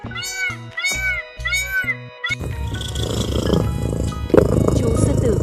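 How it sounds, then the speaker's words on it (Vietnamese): A lion cub lets out a rough, rumbling roar that fills the last few seconds and holds fairly loud, preceded by several shrill, wailing bird-like calls over a rhythmic beat. "Chú sư tử con."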